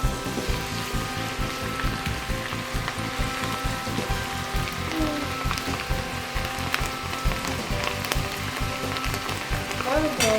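Lentils for a homemade fried dal snack, frying in hot oil while being stirred, filling the scene with a loud, dense, continuous crackling sizzle that stays even throughout.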